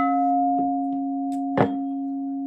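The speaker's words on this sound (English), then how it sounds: "crystal singing bowl" A crystal singing bowl hums with a steady, sustained tone and a higher overtone, holding evenly throughout, with a few soft taps and one brief knock over the ringing.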